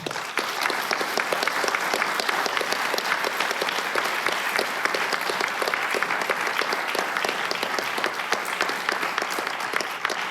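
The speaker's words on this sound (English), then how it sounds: "I'd like to hear a round of applause for all of them" A conference audience at an international law event on technological change gives sustained, dense applause for the organizers, a steady crackle of many hands clapping at even loudness for about ten seconds, with no talk over it.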